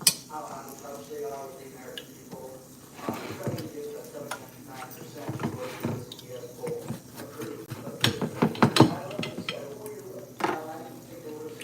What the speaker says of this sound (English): This is a pancake spatula, by the way. It just works well for flipping the sandwiches.